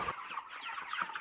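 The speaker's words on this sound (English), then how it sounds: "Chickens and ducks are bred and raised at this farm." Chickens cluck in a poultry yard on a farm raising chickens and ducks, a busy overlapping chatter of short clucks and squawks at moderate level without any speech.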